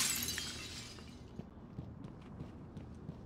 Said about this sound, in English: When the glass breaks, it makes this weird sound, which I really don't like.